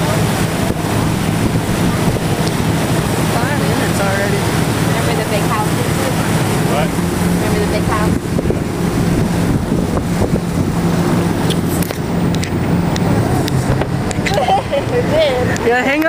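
A boat speeds over open water, with engine drone, splashing and heavy wind buffeting the microphone throughout, loud and constant.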